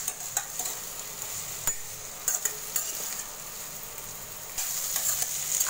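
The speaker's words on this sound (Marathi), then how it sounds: "आता ही थोडी जरा परतायची" Potatoes stir-fried for batata bhaji give a soft, steady sizzle with occasional scraping stir strokes, moderately close and fairly quiet, with no talking.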